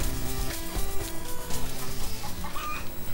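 Game chicken from Call of Duty Black Ops Zombies clucks repeatedly in short, choppy bursts over a steady background hum of game audio, with no talk.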